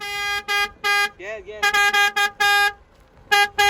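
A car horn honks in a string of short and longer blasts, loud and close, while a person briefly speaks between the honks; a Tofaş Şahin and a Fiat Egea are present.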